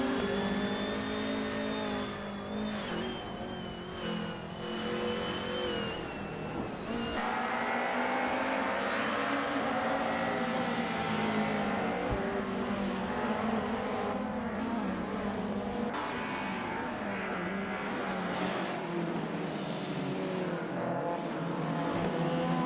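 Race cars roaring through a video game race, a dense continuous wash of engine drone and shifting revs at steady loudness, with overlapping motors and no voices.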